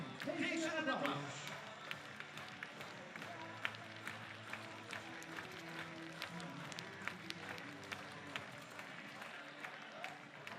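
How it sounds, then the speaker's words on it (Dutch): Applause from the crowd at a livestock breeding day in Friesland for the champion and reserve champion, a brief louder burst at the start easing into scattered clapping under a busy room with voices. "Geef ze een applaus."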